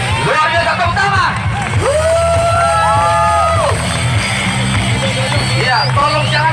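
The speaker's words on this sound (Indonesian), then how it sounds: "Luar biasa tepuk tangan." A crowd cheers and whoops at a cadre exam performance of attractions, with shouted calls and excited voices rising over a loud, continuous hubbub of babble.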